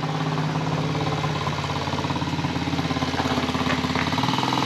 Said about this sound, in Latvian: mocīts izdomā piešķilties, lai tāds brauks garām